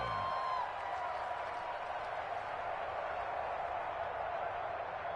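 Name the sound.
football stadium crowd cheering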